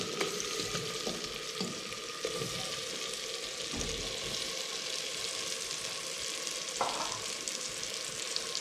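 Cauliflower florets fry in a hot pan with a steady, even sizzle and crackle, joined by occasional stirring clatter and light scraping against the pan.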